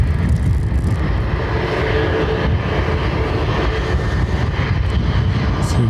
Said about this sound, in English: There's a Catilla Jet 2 landing there.